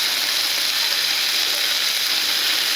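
Food frying in oil inside a kitchen gadget, a roti-maker style appliance, with fish and cutlets being cooked; a steady, close, continuous hiss and sizzle runs throughout with no talking.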